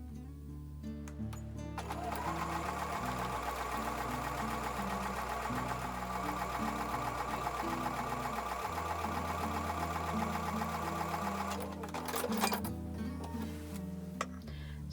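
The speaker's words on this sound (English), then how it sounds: "take them to the sewing machine and sew with a 1/4 inch seam" Sewing machine stitching quilt pieces with a 1/4 inch seam allowance, a steady, fast, continuous mechanical whirr and ticking running for most of the stretch, close and alone with no talk.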